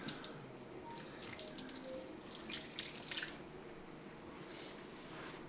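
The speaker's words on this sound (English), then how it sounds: "Now I gotta wash them to get that oil off my fingers." A running tap splashes into a sink as oily hands are rubbed and rinsed beneath it, a soft, steady trickle with faint squishing and dripping, close but quiet, no talking.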